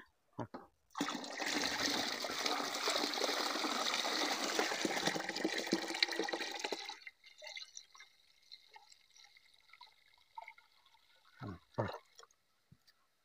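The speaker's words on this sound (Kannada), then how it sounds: "ಇದಕ್ಕೆ ಒಂದು ಏಳೆಂಟು ಲೀಟ್ರ್ ನೀರನ್ನು ಹಾಕ್ಕೊಳ್ತೀವಿ" Seven to eight litres of water poured into a bucket of cow dung culture, a steady splashing gush for about six seconds, then quiet drips and a few soft knocks near the end.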